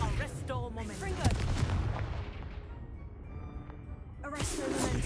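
The Confringo fire spell in Hogwarts Legacy bursts loudly near the start, followed by a rumbling, decaying blast tail and another magical impact near the end, with faint game voices mixed in.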